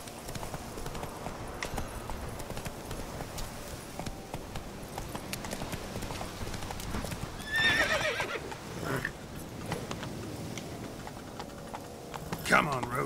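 Roach, Geralt's horse in The Witcher 3: Wild Hunt, gallops with steady clip-clopping hooves and occasional neighs, heard under game ambience and a voice urging her on.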